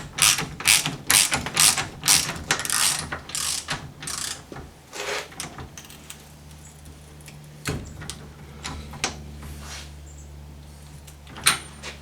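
A ratchet tightens the top mount nut on a shock absorber of a nineties Audi 80, a quick run of loud clicking strokes that slows into a few sparse clicks and scrapes, with no talking.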